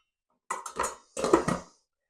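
A floured parsnip is set onto a plate with two short, close clattering knocks about half a second apart, then quiet.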